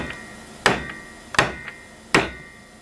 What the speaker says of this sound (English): The way we do these is hitting the center with the round side of a ball peen.